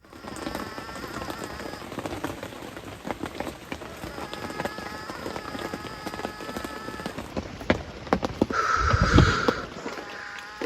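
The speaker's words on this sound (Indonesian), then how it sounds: "saat hujan turun sangat lebat" Heavy rain captured by a CCTV camera hisses steadily across the whole stretch, a dense patter with scattered drips and a brief louder splash near the end, no voices.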